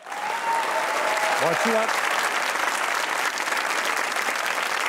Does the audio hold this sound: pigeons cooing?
no